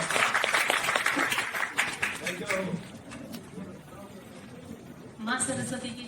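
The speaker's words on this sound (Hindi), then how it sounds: "आप लोग बड़ी तालियों के साथ एक शिष्ट" An audience at a Hindi Diwas honour ceremony in Lucknow claps in a dense burst of applause that fades after a couple of seconds, followed by someone speaking over a microphone.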